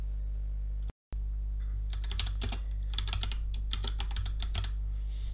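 Typing a name on a computer keyboard, a quick irregular run of close, crisp key clicks after a brief dropout, over a low steady hum.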